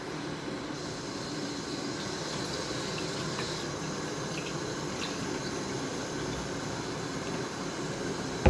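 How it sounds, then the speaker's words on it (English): Tap water runs steadily into a sink while hands are washed under it, a close, even hiss of splashing water with little variation and no talking. "So I'm just going to wash my hands one more time."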